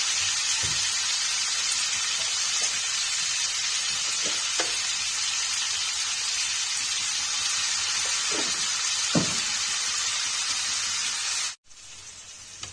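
Paneer pieces fry in hot refined oil with butter, giving a loud, steady, close sizzle that runs evenly for most of the stretch, with a few soft clicks, then cuts off abruptly near the end.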